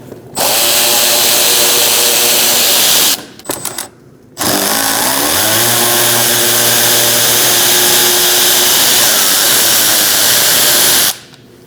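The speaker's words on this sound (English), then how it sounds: "Using a T15 Torx bit, we're going to remove these two bolts," A power driver with a T15 Torx bit removes two bolts during radiator replacement on a 2016-2019 Chevrolet Cruze 1.4L, giving two loud, close whirring bursts separated by a brief pause, the second winding up in pitch.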